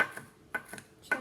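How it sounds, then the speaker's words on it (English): Knife chopping fresh basil on a cutting board, three crisp separate taps spaced about half a second apart, close and fairly quiet with silence between strokes. "Okay, so we're just gonna chop this up."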